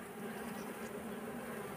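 Honey bees buzz around an open hive frame holding a queen, a soft, continuous drone of many insects at close range, steady and unbroken.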